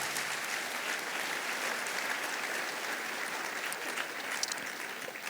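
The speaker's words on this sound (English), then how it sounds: "Please give Pastor Sam a big round of applause." Steady, dense audience applause for Pastor Sam at a leadership conference panel session, a full room clapping continuously and evenly throughout.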